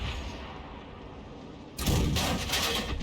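Stock gun on the 212A tank in a video game firing: after a low rumbling lull, a sudden heavy boom breaks in and rolls on into a loud sustained blast.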